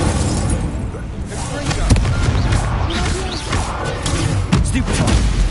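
An Incendio fire spell goes off in Hogwarts Legacy amid loud, dense battle noise, a roaring burst of flame with crackling pops and thumps layered over a constant rumble.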